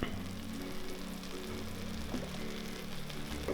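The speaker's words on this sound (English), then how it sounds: "Now it's starting to come to a fuller boil." A pot of no-bake cookie mixture boils on a stovetop, giving off a dense, continuous bubbling and sizzling crackle at a steady level, close by and with no talking.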